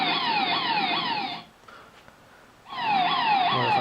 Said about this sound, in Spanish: la alarma de sabotaje